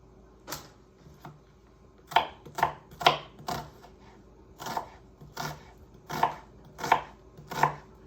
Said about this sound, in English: I am just cutting a little bit because I don't want a lot of onion